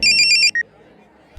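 A phone's electronic ring tone sounds as an urgent call is placed, a loud warbling double-beep pattern repeated four times in quick succession, followed by a brief single tone and then near silence.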